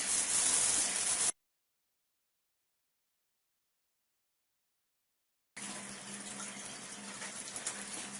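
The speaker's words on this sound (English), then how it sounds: "the water running from the faucet through the machine and into the sink" Water runs from a kitchen faucet through a water ionizer machine into a sink, a steady hiss and gush heard in two stretches separated by a long silent gap.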